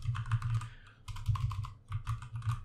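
Rapid typing on a computer keyboard while entering code, a close, steady patter of keystrokes in three bursts with brief pauses between them.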